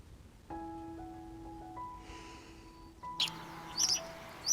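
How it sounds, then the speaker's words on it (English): A blackbird visiting a garden pond to drink, with a few bright chirps and tweets arriving near the end over a quiet outdoor backdrop with faint steady tones. "This blackbird has been a regular visitor to the pond to have a drink"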